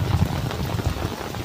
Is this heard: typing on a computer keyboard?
no